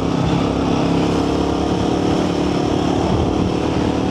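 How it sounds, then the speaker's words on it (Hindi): A 2024 Royal Enfield Guerrilla 450 motorcycle running, its exhaust giving a steady, loud, continuous drone that stays even with no pauses. "एग्जॉस्ट तो भाई साहब बहुत मस्त है, बढ़िया एग्जॉस्ट है।"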